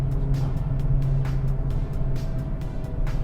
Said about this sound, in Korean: 소리가 지금 이제 4000rpm에서 나는 소리예요